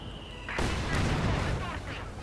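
Stuka rocket artillery firing in Company of Heroes 2 lets loose a sudden loud burst that rolls into a dense, rumbling barrage lasting a couple of seconds.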